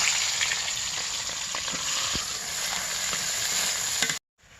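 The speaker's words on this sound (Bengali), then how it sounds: "এখন আমি এই যে পেঁয়াজগুলো" Onions fry in a pan over a clay-stove kitchen fire, a steady dense sizzle with occasional stirring clicks, close and continuous until it cuts off abruptly near the end.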